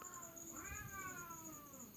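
A cat meows in one drawn-out, wavering call, near and fairly clear over a steady high-pitched background hiss.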